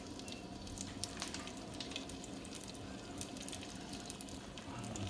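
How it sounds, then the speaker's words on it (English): Bacon frying in a pan, giving a steady, dense crackling sizzle throughout, fairly quiet and continuous with no talk. "Now, bacon on. Get a nice sizzle a few times."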